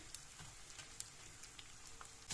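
Milk frying in a pan while making panjeeri, a soft, steady sizzle with scattered light crackles and pops, close by and alone without voices.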